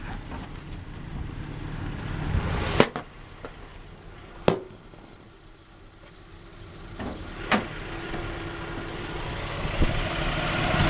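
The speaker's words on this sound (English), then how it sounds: "Maybe you want to hear the engine going." An older car's engine idling under an open hood, steady low rumble throughout with a few sharp clunks or taps standing out over the drone, no talking.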